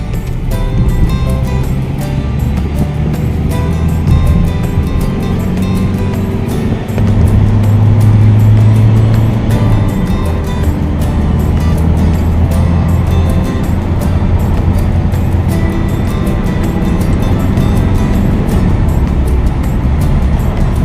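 An Isuzu D-Max pickup cruises at speed on a test drive after suspension and ball-joint repairs, heard from the cabin as a steady, loud rumble of road and wind noise that holds level throughout, with no talking.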